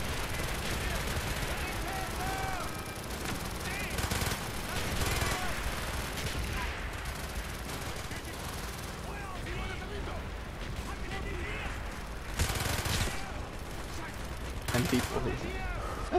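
Automatic weapon fire in the Black Ops shooter, long rattling bursts mixed with sharp impacts and in-game voices shouting over the din, sustained throughout.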